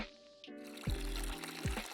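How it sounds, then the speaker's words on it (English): Liquid wort being poured in the Brewmaster beer brewing simulator game, a steady splashing pour with a few sharp thuds and clunks, close and moderately loud. "Pour it all in there"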